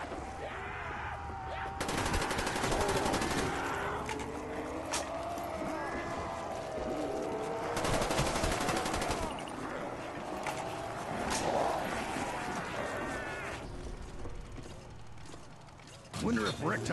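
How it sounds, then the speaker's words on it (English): AK74u gunfire from Black Ops 3 Zombies, first the standard weapon and then its Pack-a-Punch version, with dense rapid bursts of automatic shots and metallic mechanical clatter, loud and close, in several sustained volleys. "Now I'm gonna play the sound of the gun when it's uncapped and then the pack-a-punch version"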